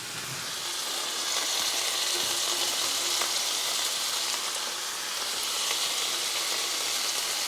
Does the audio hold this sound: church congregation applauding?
no